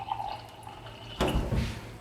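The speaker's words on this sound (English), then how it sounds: "I'm going to put water from this faucet" Tap water from a faucet, borehole-fed, pours into a glass: a quiet trickle first, then a louder rushing burst of filling water about midway that continues to the end.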